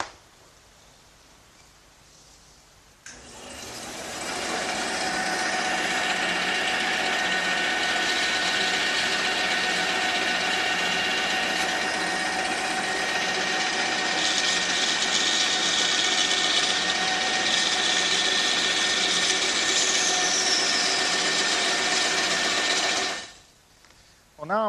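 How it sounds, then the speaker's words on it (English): A bandsaw starts up and runs with a steady high whine and buzz, cutting oak continuously for about twenty seconds before spinning down and stopping. "the first thing I'm going to do is cut these pieces on the bandsaw"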